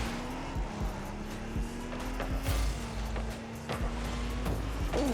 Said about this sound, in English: When you rev that car, it sounds amazing.